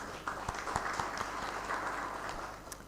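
Audience at a criminal justice managers' meeting claps for a presenter, a steady, fairly faint patter of many hands with a few sharper claps standing out.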